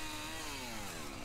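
A chainsaw cuts into a wooden log that is being shaped into an owl nesting box. Its engine gives a loud, steady, close whine that sags slightly in pitch as the chain bites through the wood, with no talking.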